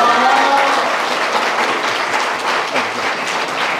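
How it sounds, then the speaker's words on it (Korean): A school audience at an education information session gives dense, warm applause, loud and continuous throughout, with a faint murmur of voices beneath. "뜨거운 박수로 차렷 인사"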